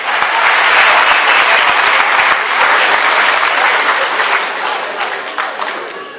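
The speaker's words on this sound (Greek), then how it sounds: "Ένα δυνατό χειροκρότημα για εσάς." A crowd at a kickboxing and MMA event in Mytilene gives loud, dense, sustained applause that tapers slightly toward the end, with no talk over it.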